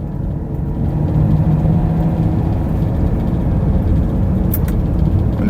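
A twin-turbo V8 Porsche (450 hp) accelerating while stuck in second gear, a loud, steady low engine drone heard from inside the cabin and holding at high revs.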